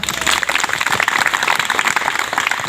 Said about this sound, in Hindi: चलिए एक बार ताली बजाइए सर।